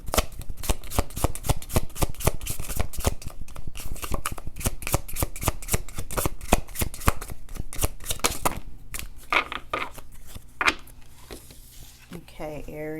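Tarot cards are riffle-shuffled in a fast, crisp run of rapid clicks and flutters for several seconds, then a voice begins speaking as the shuffling stops.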